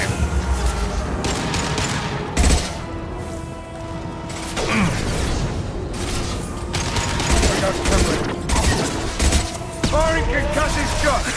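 Sustained gunfire in a Mass Effect 2 combat scene, with rapid bursts and sharp shots over ongoing mechanical clatter and booms, loud and continuous throughout, with voices calling out between the shots.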